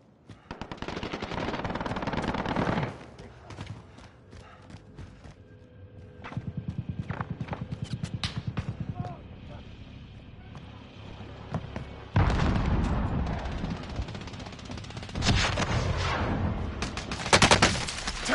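Gunfire in a Resurgence Trios battle royale video game, with loud bursts of automatic shots and scattered single shots. Brief pauses break up the bursts, and a heavy sustained barrage comes near the end.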